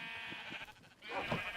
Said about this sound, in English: every time I start recording I come over here and start shearing sheep